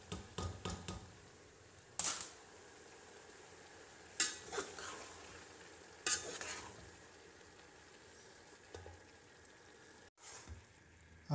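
Spinach being stirred into potatoes cooking in a pan, a spoon knocking and scraping against the metal every couple of seconds over a faint background, close but fairly soft.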